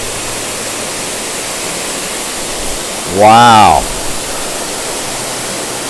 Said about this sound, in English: that water's just flowing into some kind of cavern down in there